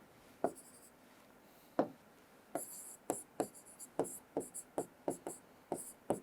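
Pen or chalk strokes writing an equation by hand, heard as a dozen short scratchy taps in irregular bursts with brief pauses, close and fairly quiet, with no talking.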